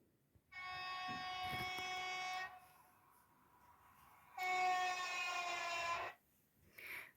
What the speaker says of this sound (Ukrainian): а ось і приїхав потяг по наших товаришів